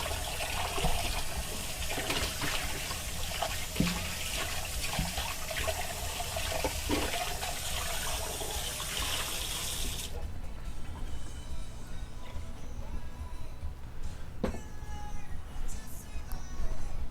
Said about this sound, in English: Let me rinse out that. We'll use that white bowl again.